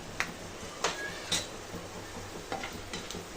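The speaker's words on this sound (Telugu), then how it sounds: "ఈ పల్లీల్ని కొంచెంసేపు ఫ్రై చేసుకోవాలండి" Peanuts and chana dal fry in hot oil in a pan for a raw mango pulihora tempering: a soft, steady sizzle with a few sharp spoon-against-pan knocks. No talking.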